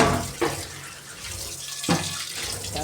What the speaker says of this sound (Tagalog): dito tayo maghugas ng mga kaldero kasi may mga kanin-kanin, mga mantika